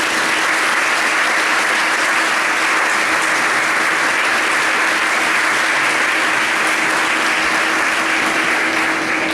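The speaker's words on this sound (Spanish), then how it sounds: "Fuerte aplauso" Loud, sustained applause from a large audience at an industry awards night in Pontevedra, a dense, continuous wash of clapping with no break.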